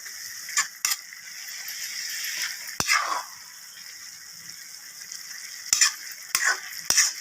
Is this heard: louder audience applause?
no